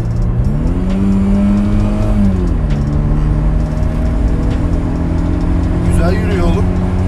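A 1998 Mercedes SLK 200 on the move, its engine note climbing and dropping through gear changes with steady road and wind noise, loud and close from inside the car.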